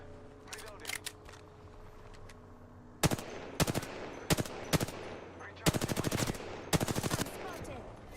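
Gunfire in the video game Apex Legends, with sharp single shots early followed by loud rapid automatic bursts and several quick volleys, close and punchy against quiet game ambience.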